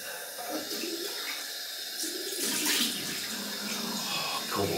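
Cold water runs from a bathroom tap into a sink during a wet shave with a stainless steel safety razor, a steady close splashing stream with no talk.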